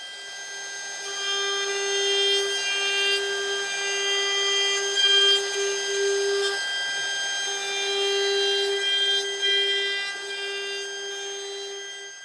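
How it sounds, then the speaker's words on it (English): Small trim router fitted with a 1/8 inch roundover bit rounding over wooden tenons, a steady high-pitched motor whine with slight changes in pitch as it cuts, close and continuous with no talk. "I've just got a little 1/8 inch roundover bit in a little trim router"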